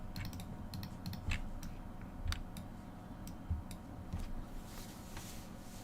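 Computer keyboard keys clicking and clacking close to a microphone that touches the keyboard, a quick burst of taps, then scattered single presses over low room noise.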